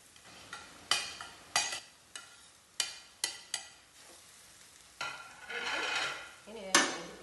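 Crushed cauliflower filling with curry leaves being mixed in a pan: a series of sharp scraping and clinking strokes of a spoon against metal, some light sizzling between them, close and fairly loud with no talking.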